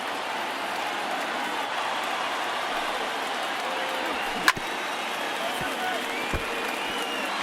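Around 26,000 baseball fans at a Baltimore Orioles game rising to their feet, a broad steady roar of cheering at middling distance, with a couple of sharp thumps breaking through.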